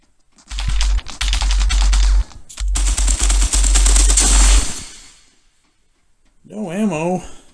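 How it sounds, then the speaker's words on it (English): Rapid bursts of automatic gunfire from the mobile shooter game Lost Light, loud and near, rattling in two long volleys with a short gap, then stopping before a brief voiced sound at the end. "Getting shot at."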